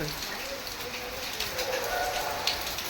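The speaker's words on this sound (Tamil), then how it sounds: "அதனால மழை காலையிலேருந்து பெஞ்சிட்டு இருக்கு" Heavy rain falls steadily during a storm, a dense continuous hiss of drops on surfaces, close and loud throughout, with a faint bird call in the background.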